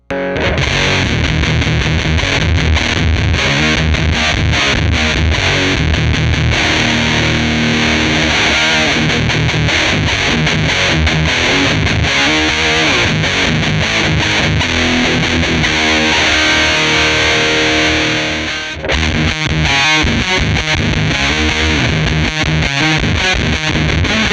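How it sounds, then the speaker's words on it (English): Guitar through a Woodcutter pedal and then a Behringer TO800 Vintage Tube Overdrive plays heavily distorted, chugging riffs and sustained chords, loud and close, with a brief dip near the end as the overdrive kicks in. "I'll play some on the woodcutter to introduce that sag, and then I'm gonna kick on the vintage tube overdrive"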